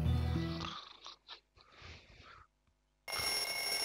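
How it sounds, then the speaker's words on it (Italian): An alarm clock rings in the video game Bully Scholarship Edition. It gives a loud tonal ring at the start, then quieter scattered sounds and a short silence, before ringing loudly again at the end. "Chi è? A sveglia."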